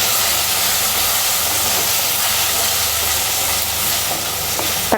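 Tomato, onion and brinjal sauté in oil with turmeric powder for a kulambu, giving a steady, close, loud sizzle and hiss with faint stirring that continues throughout.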